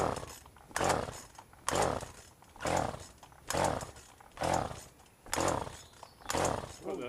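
Chainsaw running on fuel contaminated with bar oil, heard as repeated rhythmic pull-start bursts about every 0.9 seconds, each a short rasping surge that fades without the engine catching.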